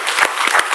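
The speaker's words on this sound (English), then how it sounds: "please join me in giving a round of applause for our panel" Brief burst of audience clapping for a finance discussion panel, a few loud distinct claps close by over a steady wash of applause, lasting under a second.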